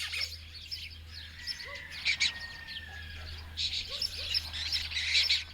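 Pigeons, jackdaws and lesser kestrels call over the town of Matera in Italy, with repeated chirps and sharp calls at moderate distance above a low steady hum.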